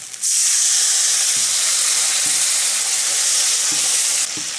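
Spices including dried chilli powder frying in a pan with a splash of water for prawn malai curry, a loud dense hiss of sizzling steam with occasional stirring knocks, starting abruptly and dropping slightly near the end.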